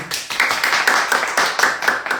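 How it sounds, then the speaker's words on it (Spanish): Small audience clapping for guests at a talk event, a quick steady patter of hands close by, rhythmic and continuous for a couple of seconds with little else behind it. "un aplauso para ustedes"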